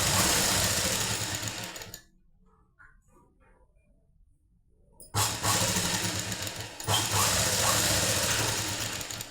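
A sewing machine stitching a lined blouse runs in a loud whirring burst, falls quiet for a few seconds, then whirs again in two long close runs with no talk.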